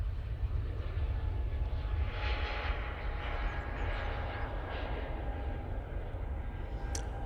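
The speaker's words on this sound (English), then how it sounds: "And there goes that EasyJet A320 Neo." An EasyJet Airbus A320neo at Manchester Airport gives a steady, broad jet roar that holds at a fairly even level throughout, swelling slightly in the middle, with no talking.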